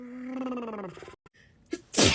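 A person with allergies sneezes in a sneezing fit: a drawn-out voiced inhale building up, a short pause, then sharp, loud sneeze bursts close to the mic.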